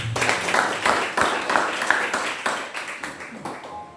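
A church congregation claps in a dense, irregular burst of applause during a worship service, pulsing and gradually fading over a few seconds.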